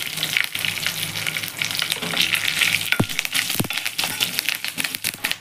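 A tempering of cumin, mustard seeds, dried red chillies and curry leaves fries in hot oil with a loud, steady crackling sizzle close by, plus a couple of sharp spoon knocks against the pan.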